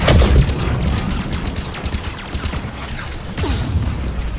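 Gunfire in a Mass Effect 3 battle, close loud bursts and rattling shots with booming impacts, dense and chaotic over a few seconds.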